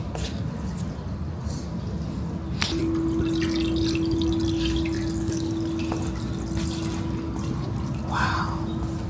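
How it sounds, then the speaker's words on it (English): Water runs steadily from a church drinking fountain, a continuous hiss and trickle with a few sharp clicks and a faint sustained tone near the middle. "This church has holy water in the water fountain."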